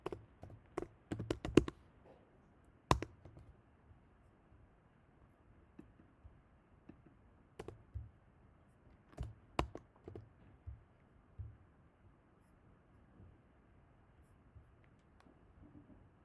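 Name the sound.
typing on a computer keyboard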